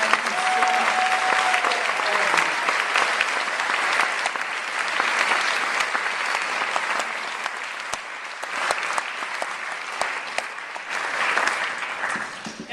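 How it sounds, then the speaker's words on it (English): A large audience applauds steadily and loudly throughout, a dense, sustained wash of clapping at a closing-remarks event for the Journey of the Universe, without any pauses. "So a huge round of applause for those supporters."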